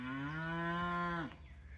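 A cow on an open hiking trail gives one long, rising low moo that stops abruptly, clear but moderately distant, with no one speaking.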